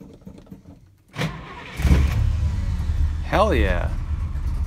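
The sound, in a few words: Plymouth Roadrunner car engine cranking and starting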